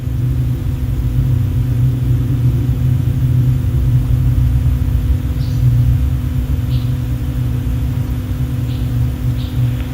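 A Minotaur I rocket's first-stage motor roars during launch from Virginia, a loud, steady, deep rumble that stays constant throughout, with no voices.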